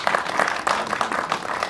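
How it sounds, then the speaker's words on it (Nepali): A crowd at a film promotion event bursts into a brief round of applause, dense overlapping claps at a steady level for a couple of seconds. "एकचोटि छोटा ताली।"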